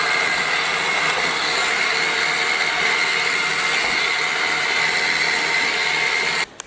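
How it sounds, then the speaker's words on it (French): A Makita cordless vacuum cleaner used in a workshop runs with a steady, fairly loud whining motor hum that stays even throughout before cutting off abruptly at the very end. "c'est un aspirateur qu'on met en route à peu près 2 fois par semaine"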